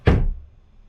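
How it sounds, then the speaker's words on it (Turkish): A caravan bathroom door swings shut against a U-profile frame strip, giving a single close, dull thunk that fades quickly into quiet. "Böylece kapı kapandığı zaman"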